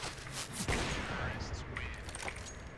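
Gunfire in the video game CS:GO sounds as sharp shots and a short burst under excited talk from players, with the game's background ambience throughout.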